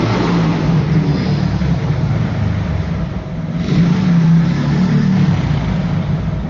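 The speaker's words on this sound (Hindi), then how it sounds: "बाइक बहुत ही तेज आवाज़ करते हुए जा रही है।" A motorbike passes by loudly outside, a steady, heavy engine roar that fills the whole stretch, swells briefly, then continues without a break.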